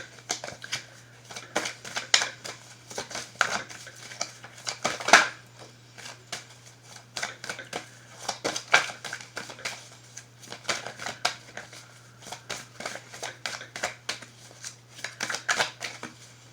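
Oracle cards are shuffled in a steady run of crisp riffling and flicking bursts, close and fairly quiet, with a low constant hum underneath and no speech.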